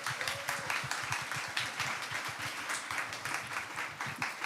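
An audience claps warmly for a soldier in uniform at a Korean Liberation Army history talk, steady rhythmic applause from a crowd, somewhat distant and soft, with no talk over it.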